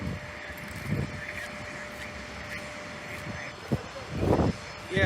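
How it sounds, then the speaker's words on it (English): An airplane passes near an airport on a windy day, heard as a steady low engine roar that swells briefly toward the end, with faint voices underneath. "Oh wow, did I miss a plane?"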